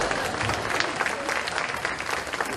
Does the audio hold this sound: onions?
no